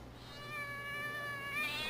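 A cat meowing in a drawn-out, wavering cry as an audiobook sound effect, a single moderately quiet call set over a steady low background hum.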